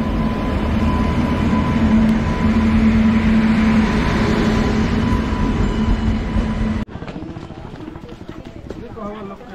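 The Jagdalpur Howrah Express rumbles steadily into a station in India with loud rail clatter, a sustained tone and rhythmic wheel noise that cuts off abruptly near the end, while a voice speaks over it.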